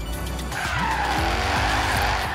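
A powerful, overpowered BMW in Forza Horizon 3 revs hard while its tires squeal and skid, engine pitch rising and falling through gear shifts, loud and close with no talk.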